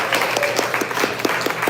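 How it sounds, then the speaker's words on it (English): Workshop attendees at a startup networking event applaud themselves, a brief, dense burst of crowd clapping at a steady level, close and lively. "Give yourselves a round of applause."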